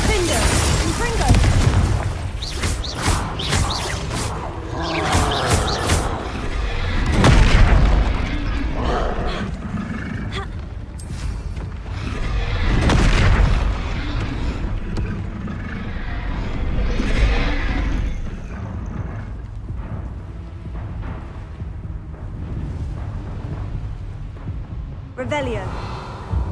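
Booming fire-spell blasts from the video game Hogwarts Legacy erupt in several loud bursts amid rumbling combat effects, with a voice speaking over parts of the action.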